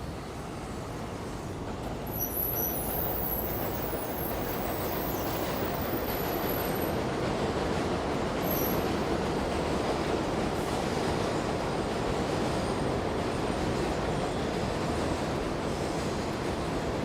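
A subway train rumbles steadily past at the elevated Queensboro Plaza station in Long Island City, Queens, New York, as a loud continuous roar of wheels on rail with brief high squeals near the start.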